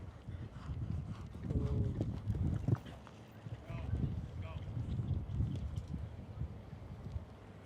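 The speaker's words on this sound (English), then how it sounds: "Big gallop across the middle." A show-jumping horse galloping across the arena ground during a jump-off, a rhythmic muffled drumming of hooves heard at a distance under faint commentary-like voices and background crowd murmur.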